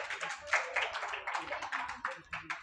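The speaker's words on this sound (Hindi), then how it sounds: "बिटिया के लिए जोरदार तालियां बजा दीजिए आप सब" A small audience at a school and coaching-centre award ceremony claps for a top-ranked student, giving sharp, uneven handclaps in a loose, fairly close burst.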